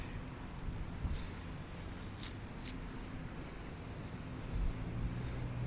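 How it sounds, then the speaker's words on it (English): Steady wind buffeting the microphone in Midtown Toronto, a constant rumbling roar with a few louder gusts, no voices. "but it is windy"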